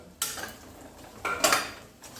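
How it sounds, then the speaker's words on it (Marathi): Brinjals stir-fried in masala in a pan, with a few quick metallic scrapes and clinks of a spoon against the pan in a short burst, and no voices. "पुन्हा एखाद मिनिट आपण असेच परतून घेऊया मसाल्यामध्ये ही वांगी"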